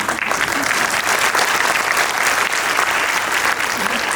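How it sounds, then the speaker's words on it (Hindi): An audience at a spiritual gathering applauds, a loud, dense, continuous clapping from a large crowd. "उनके लिए ताली है ना।"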